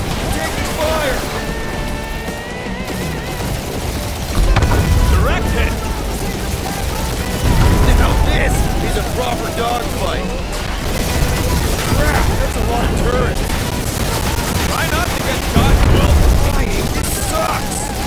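Gunfire and blasts from a spaceship battle in Marvel's Guardians of the Galaxy rumble under constant game noise, with heavy booms around 4.5, 7.5 and 15.5 seconds and character voices shouting over the fight.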